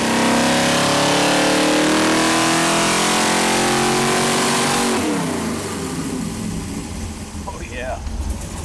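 A Chevy 454 or Ford 460 big-block V8 on a dyno revs hard with a loud, rising roar that peaks and then drops off to a rough, lower rumble.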